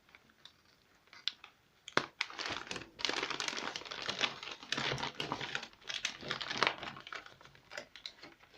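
Shiny gift wrapping and glittery tape from a Secret Santa present crinkle and crunch as they are peeled open, a steady run of close, moderately loud rustles and crackles with brief sharper bursts, no talking.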